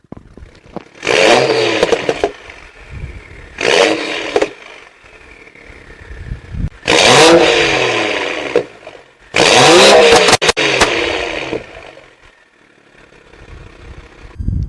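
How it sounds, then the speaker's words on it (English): BMW 6 Series F06 four-door coupe with MHD tuning, revving hard in sport mode: four loud, close bursts of engine roar, each rising then cut off, with crackling burbles and gaps of quieter idle between them. "I'd like you to hear how this beast roars, comparing the sound in comfort mode, then switching to the sport mode"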